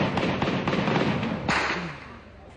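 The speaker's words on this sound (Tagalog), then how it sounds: "Kayo dito may bumabagsak dito na M203." Gunfire and M203 grenade blasts from a firefight between Abu Sayyaf fighters and military forces during the Damitan siege in Mindanao, heard as dense, sharp bangs and thuds packed close together. A louder burst lands near the middle, and voices sound faintly beneath the shooting.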